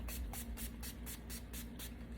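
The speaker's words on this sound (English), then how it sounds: "I have this particular spray sunblock, which I actually like to use because it's just easy." Spray sunblock is sprayed in a rapid train of short hissing bursts, about eight puffs in quick rhythm, close and fairly quiet over a low steady hum.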